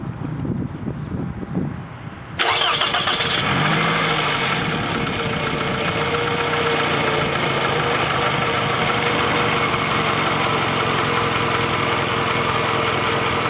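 Car engine with a fault starting up, a brief crank, then an abrupt catch into a loud, steady, gravelly idle with a rough knocking undertone, close and continuous, with no talking.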